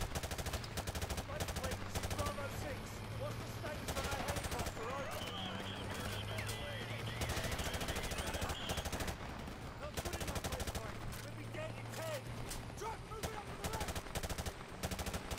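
Rapid bursts of automatic gunfire from Call of Duty Modern Warfare Remastered crackle in dense runs, mixed with scattered single shots and background game sounds, while a person talks over it.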